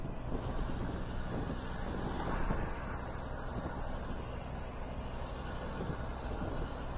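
A loaded dump truck's engine runs in sixth gear, a steady low rumble with broadband roar and wind buffeting, constant and close throughout with no talking.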